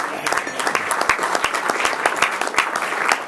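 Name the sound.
applause for the meeting greeter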